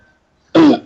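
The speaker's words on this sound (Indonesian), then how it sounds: "batuk sedikit ya maaf." A single short, loud, close cough bursts out of near silence indoors.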